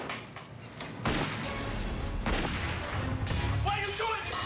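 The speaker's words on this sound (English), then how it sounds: "The dish machine every once in a while makes this god-awful banging that sounds like a gun." A dish machine bangs loudly and suddenly like a gunshot in a busy kitchen, with a sharp burst that is followed by more clattering and thuds amid a steady background roar.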